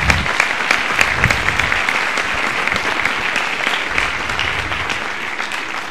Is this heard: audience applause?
yes